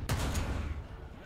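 A tank cannon round striking a vehicle in War Thunder, one sharp close blast that rolls off into a short rumbling decay.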